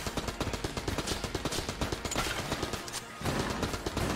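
Rapid video-game gunfire with bouncing bullets in Exit the Gungeon, a dense clattering stream of shots firing in quick rhythm throughout, briefly pausing before resuming.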